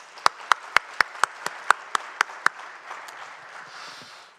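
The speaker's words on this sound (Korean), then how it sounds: "박수해 주시기 바랍니다." A church congregation claps in a sharp, evenly spaced rhythm, about ten loud claps that stop halfway through and leave a faint room murmur.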